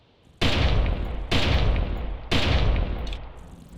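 Three loud pistol shots ring out in the hunting video game Carnivores, evenly spaced about a second apart, each a sharp blast trailing into a long rumbling echo.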